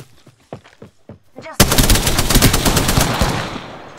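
Apex Legends gunfire striking an enemy, a loud rapid burst of automatic shots erupting after a few quieter sounds and continuing as a sustained rattle.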